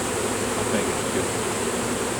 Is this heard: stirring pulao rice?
no